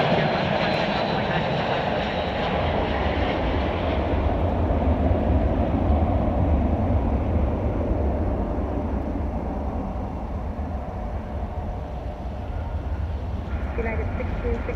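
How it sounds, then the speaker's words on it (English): A United Airlines Airbus comes in to land at Chicago O'Hare, and its jet engines make a loud, steady roar that fills the whole stretch, with voices talking over it. "let's go ahead and get this United Airbus coming in"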